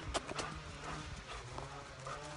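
Hooves of large horses clop in an uneven rhythm close by, with a low rumble of movement and faint voices underneath.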